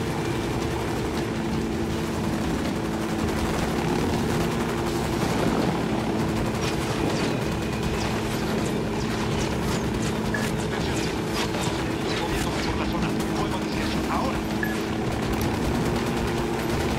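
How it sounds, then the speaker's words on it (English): Gunfire in the Ghost Recon video game rattles through a dense, rumbling battle soundscape, with rapid crackling bursts over constant low engine-like noise, loud and sustained throughout. "Opening fire."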